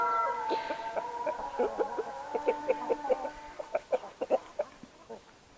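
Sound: chickens clucking on a farm

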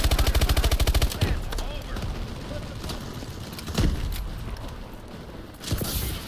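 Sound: suppressing gunfire in Call of Duty: Advanced Warfare video game

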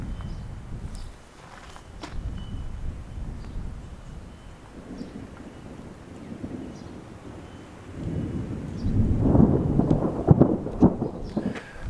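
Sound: thunder from an approaching storm

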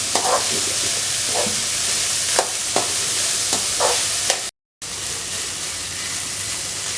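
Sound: onions frying in a pan

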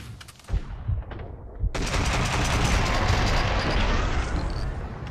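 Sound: gunfire in a video game

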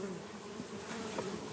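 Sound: honey bees buzzing at hive

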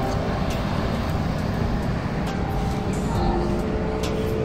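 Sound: traffic on Roxas Boulevard, Manila

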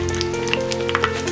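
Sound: milk pieces in bread crumbs frying in oil

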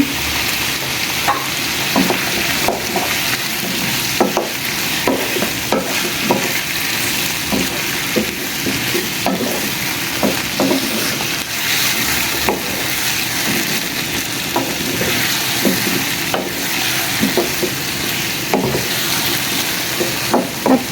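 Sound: garlic paste frying in a pan

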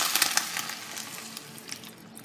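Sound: water added to pasta sauce in a pan

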